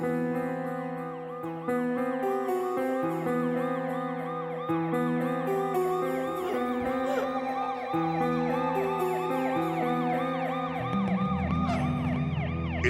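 An ambulance siren wails loudly and continuously, its rising and falling tones repeating in a steady cycle over several seconds, with no voices.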